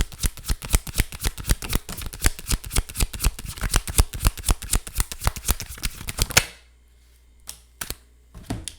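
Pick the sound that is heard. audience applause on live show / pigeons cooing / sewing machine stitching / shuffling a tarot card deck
shuffling a tarot card deck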